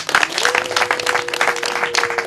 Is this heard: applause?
yes